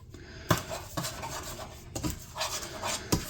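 Spoon scraping and clinking against a bowl or pot while buffalo chicken sauce ingredients are stirred together, a few distinct knocks over soft continuous rubbing, close and fairly quiet.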